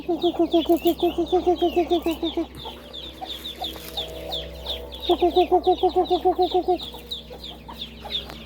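Chickens cluck in rapid repeated bursts, loud and close, with a pause between runs and softer bird chirps in the background.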